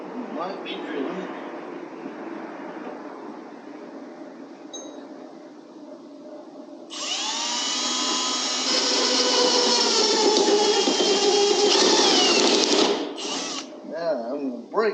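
A power drill runs steadily for several seconds during land clearing, a loud sustained whine with a bright tonal edge that cuts off abruptly, following a stretch of quieter background noise and voices.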